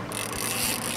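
A fishing reel is cranked hard while a bluefin tuna is fought off Cape Cod, a continuous fast ratcheting whir that stays loud and close throughout with no voices over it.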